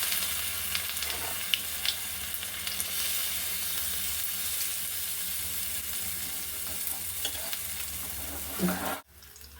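Suji and egg pakora batter deep-fries in hot oil, a steady close sizzle and bubbling with faint stirring that runs throughout and cuts off abruptly near the end.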